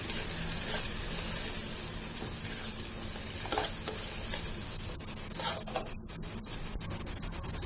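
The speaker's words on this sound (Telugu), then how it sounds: "అలాగే కొద్దిగా అల్లం వెల్లుల్లి పేస్ట్ వేసుకొని మరొకసారి ఇది కలిసేలాగా కలుపుకొని" Ginger garlic paste sizzles steadily in hot oil in a pan, with a spoon scraping and stirring through it in irregular strokes, close and continuous with no talking.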